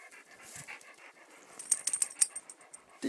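Dogs pant and move quickly at a summer road camp, with soft breathing and scuffling at first, then sharper bursts of fast panting and small yips close by, and no talk.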